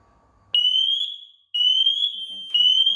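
Home smoke detector sounding during a test: three long, loud, piercing electronic beeps in a steady pattern, each lasting about a second with only brief gaps between them, after a moment of quiet room hum.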